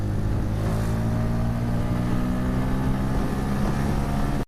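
A Bajaj Pulsar N160 motorcycle engine accelerates in fourth gear on an open road, a steady close droning hum with wind rush over the microphone, cut off sharply at the very end.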